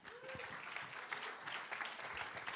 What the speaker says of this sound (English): Big round of applause for Bert Wicks.